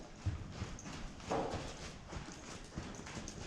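Horse hooves clip-clop on the ground as the horse is lunged in a circle, a few spaced thuds with one firmer strike midway, fairly close over a soft outdoor background.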